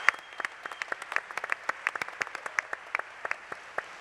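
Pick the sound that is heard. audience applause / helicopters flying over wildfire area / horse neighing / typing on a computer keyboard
audience applause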